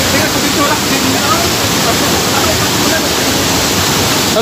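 Ukab Falls waterfall in Manabo with strong, storm-swollen flow, a loud, steady broadband roar of pounding water filling the whole span, close and continuous with no pauses.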